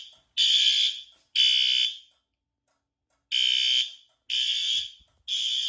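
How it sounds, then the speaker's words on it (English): A fire alarm panel drill sets off an alarm sounder, five loud, even electronic beeps with short gaps between them and a longer pause after the second, no talk. "Turns on the strobes for the CO and the fire alarm."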